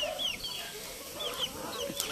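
Chickens cluck softly and repeatedly on a rural animal shelter lot where cats and dogs also live, the fowl sounding moderately close over a faint outdoor background with no talking.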